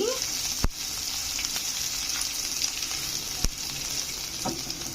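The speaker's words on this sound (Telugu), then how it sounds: "సన్నగా తరిగిన పచ్చిమిరకాయలండి ఇంకా సన్నగా కూడా తరగచ్చు మా తేజ ఇలా చేశాడు అందులోనే కరివేపాకు వేస్తున్నాను కొంచెం ఫ్రై అవ్వనివ్వాలండి" Thinly sliced green chillies and curry leaves sizzle in hot oil in a pan, a steady, close crackling hiss with a couple of sharp clinks from a utensil, no voices.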